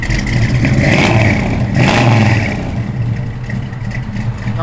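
A 1969 Chevrolet Camaro SS engine revs up loudly and close, surging twice before dropping back to a rough, lumpy idle.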